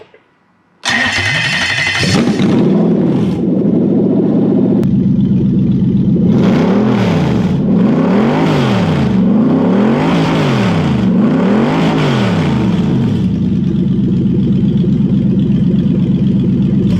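A Toyota 3UZ V8 on a test stand, with no gearbox or transmission attached, cranks and fires up loudly, then revs up and down in a series of rhythmic swells before settling to a steady roar.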